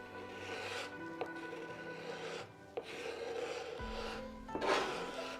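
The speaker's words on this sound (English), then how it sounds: "Okay, let's try card scraper." A card scraper drawn across wood in repeated rasping strokes, several distinct scrapes with short pauses and small knocks between them, close and fairly quiet.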